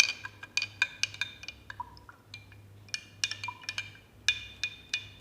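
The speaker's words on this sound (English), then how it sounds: "And we mix it with a spoon." A spoon stirs sugar into Tang juice in a glass, giving quick bright clinks and taps against the glass in uneven bursts, fairly close and quiet, with a faint hum underneath.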